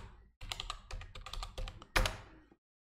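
Rapid typing on a computer keyboard while entering a command to check a server's IP addresses on Ubuntu, a steady patter of key clicks with one louder keystroke near the end, close and alone.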